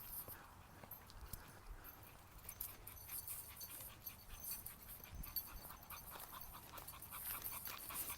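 A dog out on a walk pants softly and rhythmically at a distance, faint throughout, with quiet footsteps and some background voices.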